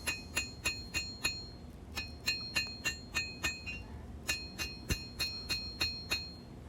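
A hammer planishes a leaf spring kitchen chopper blade on an anvil: steady rhythmic ringing metallic taps, about two or three per second, bright and close with no talk.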